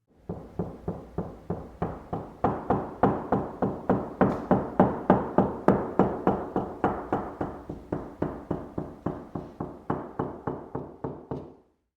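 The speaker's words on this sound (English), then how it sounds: "You can often hear where the wall joints are by knocking along the wall" A steady, rhythmic series of knocks along an interior wall to locate the wall joints, around forty hollow thuds at an even pace, close and fairly loud, ending abruptly.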